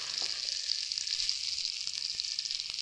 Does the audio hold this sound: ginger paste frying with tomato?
yes